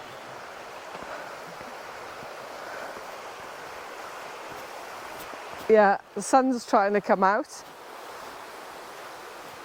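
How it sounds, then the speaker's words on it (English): A full river rushes toward a waterfall in Welsh woodland after a rainstorm, a constant broadband roar of water with someone briefly speaking over it. "really full this morning. That's all going towards the waterfall,"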